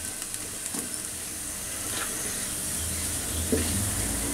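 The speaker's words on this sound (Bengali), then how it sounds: "রসুনটা একটু লালচে হওয়ার, মানে সাইডগুলো একটু লালচে হওয়া পর্যন্ত আমি একটু ভেজে নিব" Chopped garlic fries in hot oil in a pan for a Bangladeshi-style dragon chicken, giving a soft, steady sizzle with a few faint clinks from stirring.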